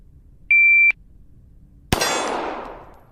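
A shot timer at shooting practice gives one sharp electronic beep lasting under half a second, then after a pause a single loud gunshot cracks and rings out in a decaying echo.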